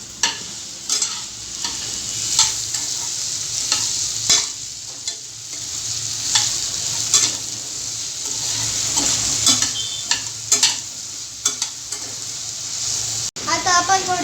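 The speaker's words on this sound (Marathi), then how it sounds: "मीठ टाकूया आपण आता एकदा हलवून घेऊया" Okra stir-fry being stirred in a pan after salt is added: repeated scraping strokes of a spoon over a steady sizzle, with occasional louder clanks of utensil against the pan.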